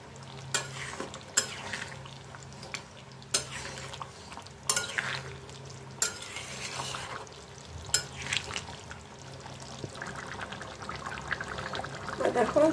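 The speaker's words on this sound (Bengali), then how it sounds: "দেখো দিচ্ছি ঘি" Ghee goes into a cooking pan holding garam masala and green chillies, giving a soft sizzle and trickle while a spoon clatters against the pan in repeated sharp knocks. A person talks quietly throughout.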